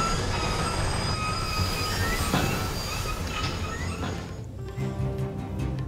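A mine train rumbles steadily along its track in the Skylanders: Spyro's Adventure video game, with continuous rolling noise, squealing wheels and metallic tones, and no talking.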